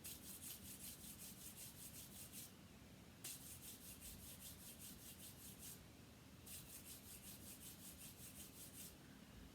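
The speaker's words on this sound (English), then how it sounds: "We can rub our hands. Have a listen to that. That's a much softer sound." Hands rubbing together make a soft, papery swishing in two long strokes separated by a brief pause, quiet and close with no talking.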